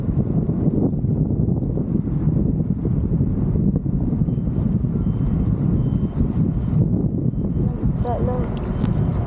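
Strong wind at sea buffets the microphone on a small fishing boat, a constant loud low roar across the whole stretch, with people talking over it.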